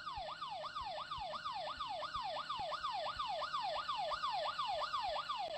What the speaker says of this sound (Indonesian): Ada suara sirene polisi!